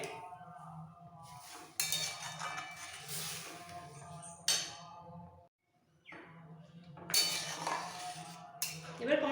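A spoon stirs grated carrots in milk in a pot for carrot halwa, giving intermittent metallic clinks and scrapes in bursts with short pauses, while a voice talks between them.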